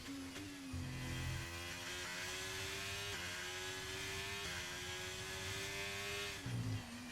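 An Alfa Romeo race car from an F1 racing video game runs a lap at the Spain circuit, its high engine whine holding steady with gear shifts and brief low rumbles, loud and continuous throughout.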